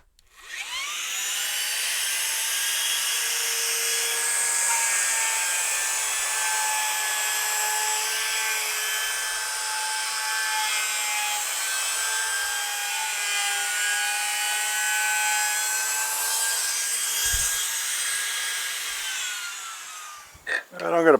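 A router fitted with a 1/4 inch bit cutting into recycled lumber for a project cart, a loud, steady high whine sustained for about twenty seconds, then winding down with a few knocks at the end.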